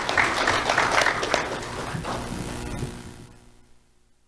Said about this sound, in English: Let's have a round of applause for Antonella and Kailyn.